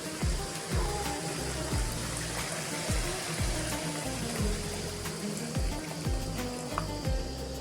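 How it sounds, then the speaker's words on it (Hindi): Water is poured into a cooking pan of minced meat, potatoes and peas, giving a close, rhythmic run of gurgling, splashy pulses over a low sizzle. "अभी मैं ज़रूरत के हिसाब से पानी ऐड कर देंगे।"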